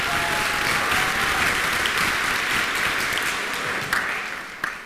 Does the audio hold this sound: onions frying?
no